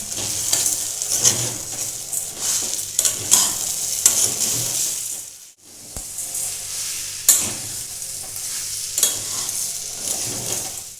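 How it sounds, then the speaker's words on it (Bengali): A spoon scrapes and stirs chana dal halwa with grated coconut and sugar in a pan over gentle sizzling, with repeated strokes and a brief pause midway. "এবারে সব কিছু দিয়ে এটা আমি খুব ভালো করে এবার নাড়তে থাকবো"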